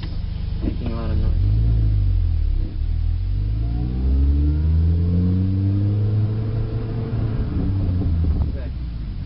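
Manual car pulling away in first gear, a loud close engine drone rising and falling in pitch as it revs and moves off, with wind rumble throughout.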